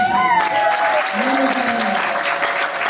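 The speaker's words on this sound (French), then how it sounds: "On applaudit." Guests at a civil wedding break into steady applause after the groom chooses monogamy, a continuous wash of clapping with a voice briefly heard through it.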